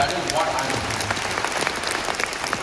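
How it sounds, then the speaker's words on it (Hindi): A short burst of dense audience clapping at a business session, steady throughout with a voice faintly audible beneath it. "इस बिजनेस में ओनरशिप की जोरदार ताली दीजिए इस चीज पर"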